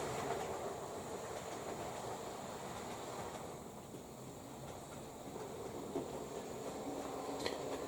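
Model railway train, a Class 86 locomotive hauling a rake of Mark 3 coaches on a layout, rumbles along in a faint continuous roll with a soft click near the end; no one speaks.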